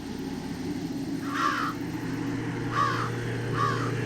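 Crows cawing at night in the video game Jenny LeClue, three distinct harsh caws spaced apart over a low steady hum, moderately close and clear, with no talking.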